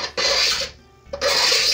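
Utility knife scraping the cut edge of a shaker table classifier part to remove fuzz, two harsh rasping strokes close up with a short pause between them, no talk.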